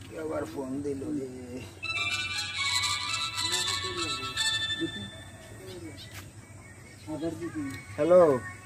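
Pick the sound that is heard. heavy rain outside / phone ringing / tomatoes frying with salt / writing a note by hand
phone ringing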